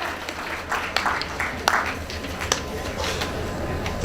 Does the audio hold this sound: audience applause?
yes